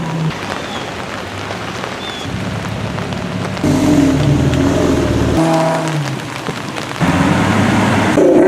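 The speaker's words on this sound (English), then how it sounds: "There's a whole lot more rain and wind." Heavy rain and wind at an outdoor car show, a dense steady roar of rain on surfaces with gusting swells, loud and continuous, with engine rumble mixed in.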